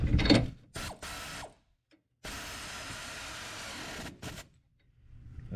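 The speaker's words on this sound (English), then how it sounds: "So we're going to tighten it with a ratchet." A ratchet tightening the leaf spring bolts on a 2004-2008 Ford F150, heard as bursts of rapid, clicking ratcheting, close up. A long steady run is broken by short pauses and silence.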